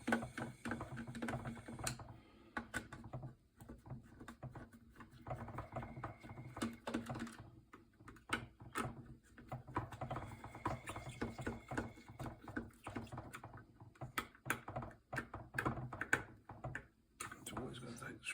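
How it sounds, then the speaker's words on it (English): Small screws being undone and removed from a drone during a rebuild, heard as dense, quick clicking and tapping close by, with someone talking throughout. "Always going to take the screws off."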